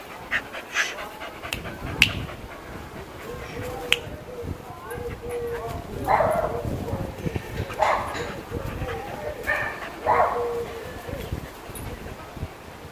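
Several dogs bark and pant across neighbouring back gardens, with repeated bursts of barking at middling distance over rustling and some nearby voices.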